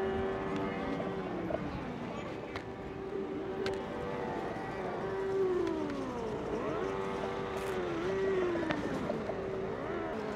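Go-kart engines race around a track in Da Lat, Vietnam, droning steadily as their pitch rises and falls through gear changes and corners, with several karts overlapping and occasional voices.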